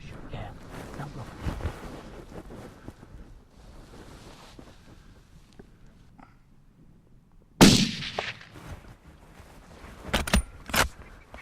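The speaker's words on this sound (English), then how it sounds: "The slow motion shows that it was a perfect shot from Dan" A sharp gunshot cracks loud and close on a grouse hunt on a Scottish moor, followed by a few more sharp bursts, with wind buffeting the microphone and quiet talk earlier on.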